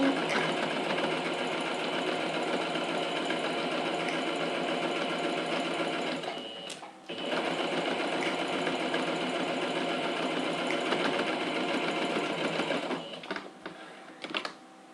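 A sewing machine runs a steady, loud stitching seam on a fabric case with a mesh window, going for about six seconds, pausing briefly, then continuing before easing off with a few short bursts at the end.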